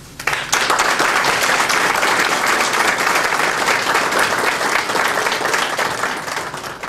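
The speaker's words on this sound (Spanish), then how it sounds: "A todos ellos quiero darles un fuerte aplauso en nombre de todos nosotros." Applause from an outdoor community gathering at the inauguration of a village cemetery, a dense, steady wash of many hands clapping that starts sharply and holds loud for about six seconds before easing slightly.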